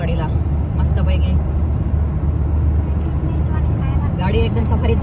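A Tata Safari drives along a road: a constant engine and road rumble heard from inside the vehicle, with some voices over it.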